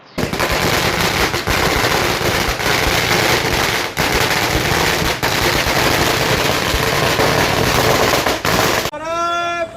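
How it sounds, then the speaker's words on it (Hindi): Fireworks and firecrackers go off at a political party's victory celebration at a town square in the evening, a dense, loud, unbroken crackling barrage of rapid bangs for almost ten seconds, ending with a short burst of voices. "कार्यकर्ताओं ने जमकर आतिशबाजी कर आसमान को सतरंगी कर दिया।"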